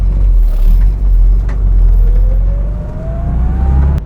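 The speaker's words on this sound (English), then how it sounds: "So here we're driving a 1969 Mark II Mini Cooper S." A 1969 Mark II Mini Cooper S drives along with a steady low engine drone and road rumble inside the cabin, the pitch climbing slowly as it gathers speed.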